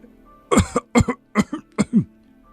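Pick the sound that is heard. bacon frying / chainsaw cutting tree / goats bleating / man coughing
man coughing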